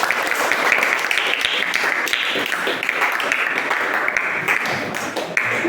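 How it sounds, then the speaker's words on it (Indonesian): A classroom audience applauding a group presentation steadily for several seconds, dense clapping that stays even in loudness throughout. "Berikan tepuk tangan."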